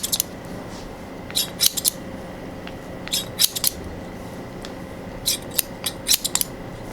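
Barber scissors snip through a customer's hair in quick, crisp clusters of close metallic cuts, separated by brief pauses, over a low room hiss with no talking.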